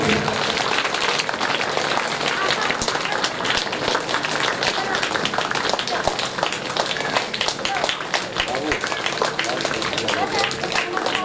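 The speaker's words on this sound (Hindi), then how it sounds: "ताली लगातार बजती रहनी चाहिए।" Audience applause at a Hindu religious discourse, dense continuous clapping from a large crowd filling the whole stretch, loud and close.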